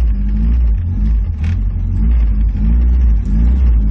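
A Volkswagen Voyage engine revs steadily close by, a strong low rumble that swells and dips slightly over a few seconds, with no voices.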